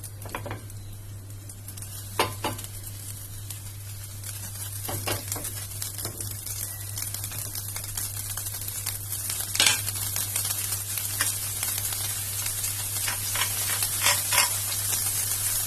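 Butter sizzling in a hot grill pan, a continuous close fizzing with scattered crackles and occasional louder pops, under a steady low hum.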